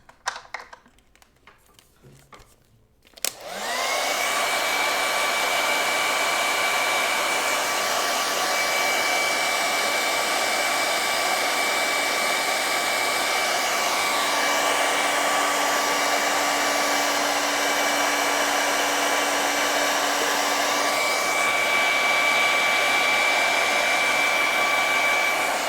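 Hair dryer drying paint on a Graphitint llama painting, switching on abruptly after a few quiet seconds of faint tapping and then blowing as a loud, steady whine that runs without a break.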